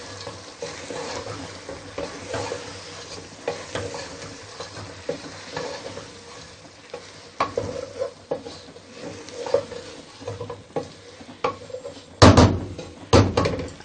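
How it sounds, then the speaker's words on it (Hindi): Mixed vegetables with freshly added cabbage and capsicum are stirred in a pan, with soft scraping and sizzling throughout and sharper, louder utensil clatters near the end. "अब हम इसको इस तरीके से हिलाएंगे।"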